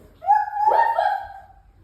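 A child imitates a dog during a down dog yoga pose, giving one drawn-out vocal bark-like woof that rises and wavers for about a second, close and moderately loud.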